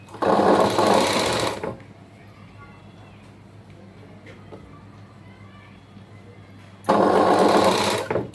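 A sewing machine stitching a folded blouse piece: two loud, fast whirring bursts of stitching, one at the start and one near the end, with a quiet stretch between where someone talks.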